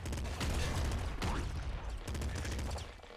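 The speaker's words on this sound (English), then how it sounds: "Sawed off shotgun." Rapid sawed-off shotgun blasts in the top-down shooter Nuclear Throne, a dense barrage of booming shots and impacts packed tightly together, fairly loud and continuous with brief lulls.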